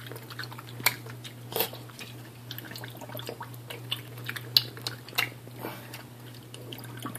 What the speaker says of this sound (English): Kind of like a compliment of a fine meal, all that smacking going on.